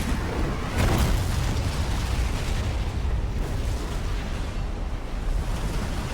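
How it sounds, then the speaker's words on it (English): An explosion in the video game Resident Evil 2, with flames engulfing the scene, gives a loud blast that swells into a sustained roaring rumble lasting several seconds. "Engulfed in flames and the explosion!"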